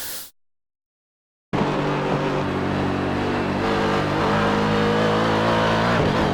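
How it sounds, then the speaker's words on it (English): A race car engine on the Sebring International circuit roars loud and steady after a brief silence, throttle held near full with slight rises and dips in pitch as the driver modulates the gas. "You can see I'm kind of playing with the throttle the whole time."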